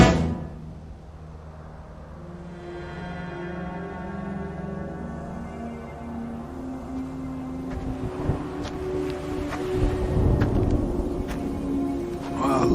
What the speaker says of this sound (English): Looks like a storm's coming in.